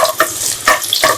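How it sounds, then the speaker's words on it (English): Cumin seeds frying in hot oil in a kadai for an egg masala curry, heard as three short spitting bursts of sizzle in quick succession, close and fairly loud. "Fry it well."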